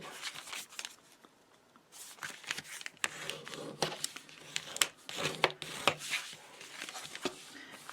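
Paper pages for a lunch bag journal crinkle and rustle as they are folded and creased with a bone folder, close and in irregular bursts of handling.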